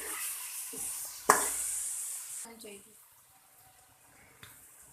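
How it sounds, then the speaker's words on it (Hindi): Finely chopped garlic and ginger sizzle in a hot pan, a bright hiss strongest over the first couple of seconds with a sharp utensil clatter, then fading to a quieter simmer with a faint later tap. "एक मिनट के लिए इसे फ्राई करेंगे।"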